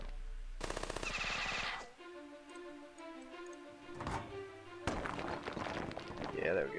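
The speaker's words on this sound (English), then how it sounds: "Shoot that guy. Shoot that guy." Gunfire in the video game Battle Nations, bursts of rapid automatic shots and sharp single cracks from units firing in battle, mixed with game music and effects at moderate loudness.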